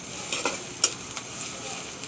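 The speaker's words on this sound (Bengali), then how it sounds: "পেঁয়াজটা আমি একটু হালকা করে ভাজা দিব" Onions fry lightly in mustard oil in a wok with a low, steady sizzle, marked by a single sharp clink of a spoon against the pan.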